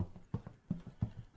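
Footsteps in the Astray video game, four heavy hollow thuds at a steady walking pace, each step close and distinct with a clip-clop character, no voices.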